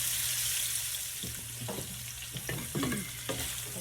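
Salmon fillets sizzle steadily in oil in a frying pan, with a few spatula scrapes and stirring knocks over the constant hiss, heard close.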